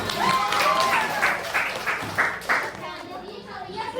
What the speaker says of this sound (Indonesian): Tepuk tangan untuk Teh Salma.